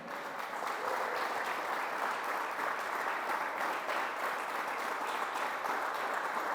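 A church congregation breaks into steady, continuous applause, a dense wash of many hands clapping at once. It is heard at a moderate distance and stays even throughout, with no talking over it.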